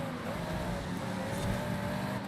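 Car engine in the Forza racing video game: a faint, continuous engine drone with a steady tone, quiet and unbroken, no talking.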